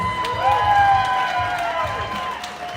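Crowd applause and cheering rise for a comedian at a Wichita Falls event, brief and lively, with some voices and shouts mixed into the clapping.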